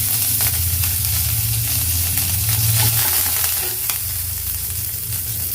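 Curry leaves hit hot oil with roasted cumin and urad dal, giving a loud, continuous crackling sizzle with bursts of spitting, close up and with no voices.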